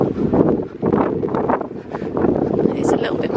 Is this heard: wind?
yes